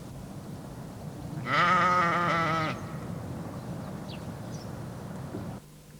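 A single sheep gives one loud, wavering bleat lasting about a second, close by, over steady outdoor background noise.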